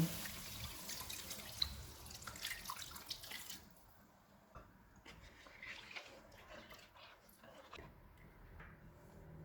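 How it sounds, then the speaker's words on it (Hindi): Two cups of water splash and pour steadily into a pot of chicken kofta curry for a few seconds, then fade to quieter trickling and clinks, with faint talking in the background. "चूल्हे को कम कर देते हैं और इनमें 2 कप पानी डालेंगे।"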